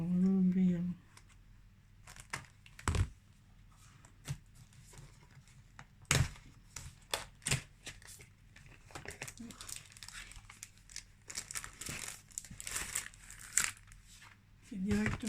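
Paper crinkles and rustles as an advent calendar package is opened, with irregular crumpling, tearing and thumps spread throughout and someone talking at the start and end.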